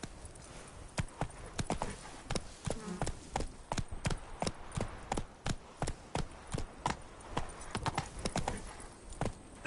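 Hooves of Roach, a horse in The Witcher 3, clip-clop in a steady, fairly close rhythm of sharp knocks, with a brief stretch of horse snorting or whinnying partway through.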